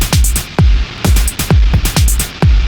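A drum loop run through the Eventide MangledVerb plugin, its kicks, snares and hats smeared into crunchy, noisy distorted reverb, a loud repeating beat pattern of about four hits per second with gritty sustained tails.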